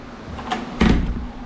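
A newly installed door on a homebuilt camper trailer bumps and thuds shut once, close by, with a softer knock just before it.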